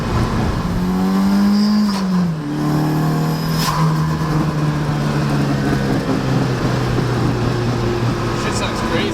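From inside a Mazda FB RX7 with a turbocharged SR20 engine swap, the engine pulls hard through rising revs, drops sharply at a gear change, then climbs again in a loud, sustained surge.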